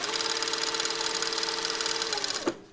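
A sewing machine stitches a shirt sleeve and side seam with a steady, fast mechanical whir and rapid needle chatter close by, stopping abruptly near the end.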